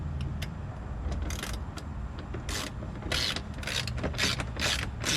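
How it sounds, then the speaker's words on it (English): Hand ratchet tightening bolts on Westin step bars fitted to a 2019 Nissan Titan XD, close and fairly loud: bursts of rapid pawl clicking repeat in short strokes, with mechanical rattling and a low background hum between them. "I'm going to go ahead and tighten this stuff down just so the other two don't walk."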